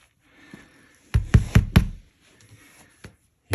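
Several knocks on a Monolith 16-inch THX-certified 2000 W subwoofer cabinet, a quick cluster of four to five firm, boomy raps in the middle, then a couple of lighter taps later, close and alone.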